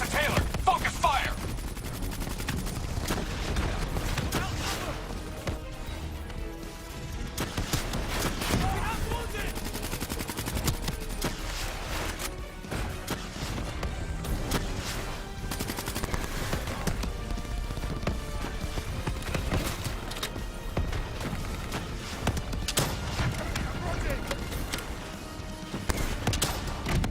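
Sustained gunfire from Call of Duty: Black Ops III during a firefight against a Manticore robot, with rapid machine-gun bursts rattling almost continuously and loud sharp shots over game effects and occasional radio voices.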